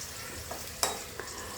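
Food frying in a pan with turmeric and salt, a soft steady sizzle with a few brief scraping stirs, one louder clatter near the middle, no voices.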